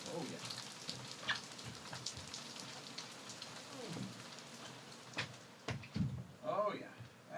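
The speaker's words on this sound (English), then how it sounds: "it is raining cats and dogs" Heavy rain pours steadily through an open studio door during a nighttime storm, a dense continuous hiss with spattering drops and a few louder knocks and splashes near the end.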